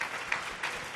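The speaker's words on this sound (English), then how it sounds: "how about a round of applause for our panelists?" An audience applauds a panel in steady, fairly distant clapping that holds evenly for a short moment.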